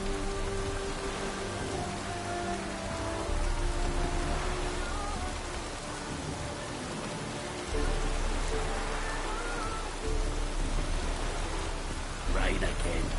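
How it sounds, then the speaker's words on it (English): Steady rain falls in a video game, a dense hiss of drops on surfaces running throughout at moderate level, with a voice speaking briefly near the end. "Must be mad running around in this rain."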